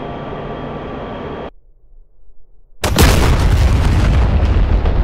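An F-16 fires an AGM-88 HARM missile in DCS: a steady cockpit hum cuts to near silence, then a sudden loud roaring blast of the launch bursts in and keeps rushing on loudly.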